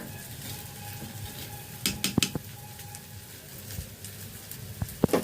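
Mashed soybean fries in a pan with a low steady sizzle, broken by several scraping stirs and utensil clinks against the metal, close and moderately loud.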